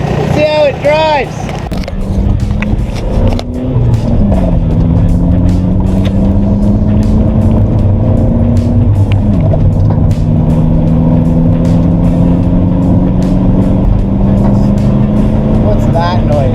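Inside a VW MK4 TDI Jetta on the move, the diesel engine drones loudly, its pitch rising and falling as the car accelerates and shifts, while people talk over it.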